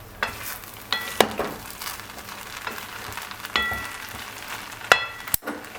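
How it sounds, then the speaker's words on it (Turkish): Rice pilaf in a pot nearly done cooking gives off faint scattered crackles and sharp little ticks every second or so over a quiet hissing background. "Böyle bir çıt çıt sesler geliyor."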